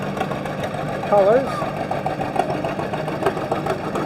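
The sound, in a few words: putter of John Deere tractors in parade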